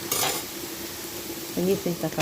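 Onions sizzling until golden brown in a hot pan with a short scraping stir near the start, then a voice speaks over the steady frying hiss.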